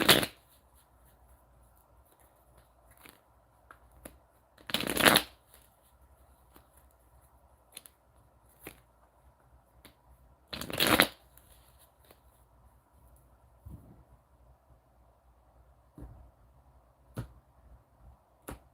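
A deck of cards is shuffled during a spiritual card reading, three or four brisk riffling bursts spaced several seconds apart, close and fairly quiet against a still room.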